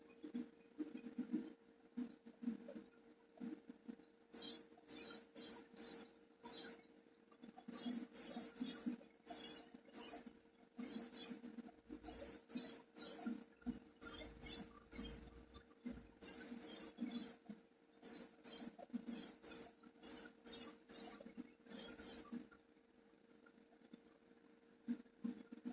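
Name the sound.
spray painting the base of a Dinky toy model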